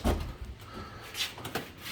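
A drawer on a Husky 46-inch steel toolbox slides open with a soft metallic rattle and scrape, followed by a few light clicks and knocks, close and fairly quiet.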